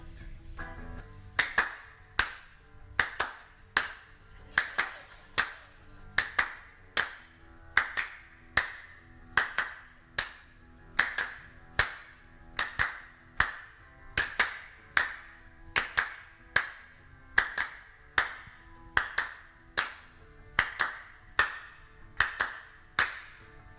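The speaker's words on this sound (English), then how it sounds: "So here's what the hand claps look like." Recorded hand clap track with a steady, evenly spaced run of sharp claps across the whole stretch, loud and alone with no voices.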